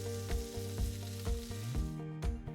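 Pancetta frying in browned, caramelized butter sizzles steadily in a pan, with rhythmic scraping and stirring strokes repeating about every half second, close and loud with no talk.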